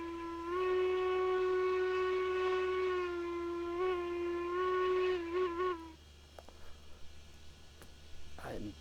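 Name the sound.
steam train whistle in the video game Railroads Online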